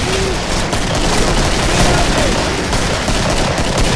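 MAC-10 submachine gun in Killing Floor firing in fast, dense bursts, loud and close, with continuous rapid shots filling the whole stretch.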